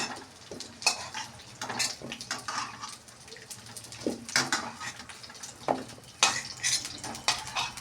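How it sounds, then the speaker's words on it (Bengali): Potato strips fry in a pan of oil for a fish curry, with a soft, steady sizzle broken by frequent scrapes and clinks of a spatula stirring them. "আলুগুলোকে লাল লাল করে ভাজছি আমার প্রায় ভাজা হয়ে গেছে"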